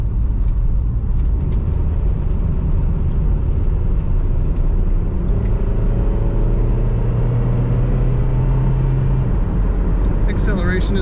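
A 1985 Toyota Celica GT-S Convertible's engine hums steadily on the road with continuous low rumble and road noise, a brief rising whine near the end.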